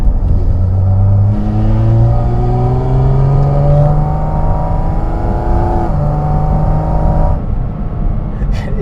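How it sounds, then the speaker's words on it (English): Porsche Cayman GT4 RS engine and intake roaring steadily while driving, revs climbing in several rising pulls with brief shift breaks, loud and close throughout. "It's just that intake noise, like, what did they even do to that?"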